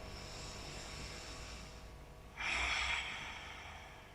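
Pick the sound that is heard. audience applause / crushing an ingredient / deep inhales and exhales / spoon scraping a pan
deep inhales and exhales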